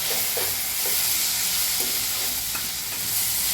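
Chopped tomato drops into onions frying in oil for dal tadka, giving a steady loud sizzle with a few soft stirring scrapes and knocks of the spoon and no talking.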